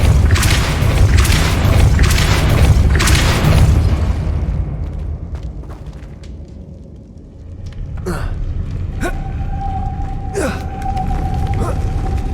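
A Depulso force spell cast in the video game Hogwarts Legacy, heard as a loud booming burst followed by rumbling impact and mechanical whooshes and chimes, with a steady low drone underneath.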